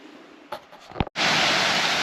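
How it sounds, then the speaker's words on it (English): A mountain waterfall roars as a steady, broad hiss, loud and close, cutting in abruptly after a few brief knocks and rustles. "Found another waterfall."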